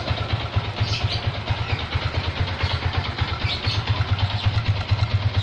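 A motorcycle engine idles steadily nearby while warming up, a low rhythmic putter with even pulses and light background noise.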